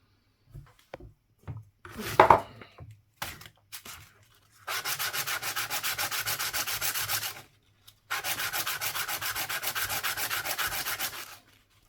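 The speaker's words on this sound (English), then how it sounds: "I'm with the sandpaper again, man" Sandpaper rubs a coin ring made from a 1930 Finnish one markka coin, a ring that has split; a few light knocks and taps come first, then two long, loud, steady bursts of harsh close-up scraping.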